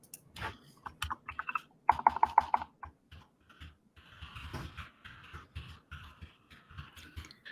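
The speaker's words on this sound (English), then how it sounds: "Got some nice ASMR keyboard." Rapid keystrokes clatter on a computer keyboard in bursts of typing with short pauses, close and fairly loud, with no talking over them.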